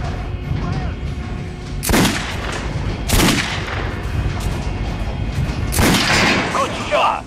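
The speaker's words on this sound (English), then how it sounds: "Try shooting with the center of the regular dummy's chest." Loud gunshots ring out at a training dummy in the game Metro: Last Light, several sharp reports spaced a second or more apart over a steady background rumble.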